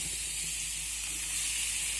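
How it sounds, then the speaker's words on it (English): Beetroot and carrots sizzling in an open pan, a steady, loud hiss of frying that holds evenly throughout with no talking. "Now in goes the veggies, beetroot and carrots."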